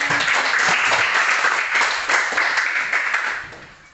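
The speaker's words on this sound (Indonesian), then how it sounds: "Tepuk tangan." Students in a school classroom applaud group 1 before its presentation, a brief burst of close clapping that swells and then fades out over a few seconds.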